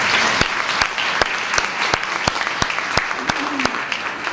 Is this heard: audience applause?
yes